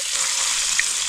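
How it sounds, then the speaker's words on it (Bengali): Fish frying in hot oil at a camping spot gives a steady, close, loud sizzle that runs unbroken for about a second with no voices. "তেল আমাদের গরম হয়ে গেছে, এখন যাবে মাছ ভাজা"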